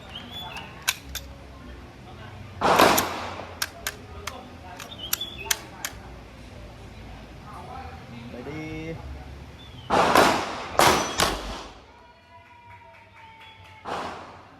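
A P320 M17 pistol firing a few rounds, with several sharp, loud bangs spaced apart and separated by quieter stretches of handling clicks and faint voices.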